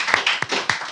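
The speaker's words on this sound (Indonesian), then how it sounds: "tepuk tangan dulu buat Bang Rido." Audience clapping at a rooftop talk show event, a short burst of several sharp claps over a bright, sustained wash of applause at close range.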